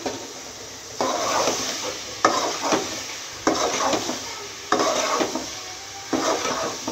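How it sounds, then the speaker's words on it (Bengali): Hilsa fish and vegetable stems being lightly fried in a pan, with repeated scraping and clanking of a utensil against the pan in regular bursts over a low background sizzle. "ডাটা আর মাছ হালকা একটু ভাজিয়া দিব।"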